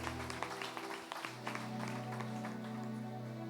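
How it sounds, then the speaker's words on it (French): An audience applauds in a church service, a dense patter of clapping heard fairly faintly over a sustained low tone, with voices mixed in. "on nous applaudit"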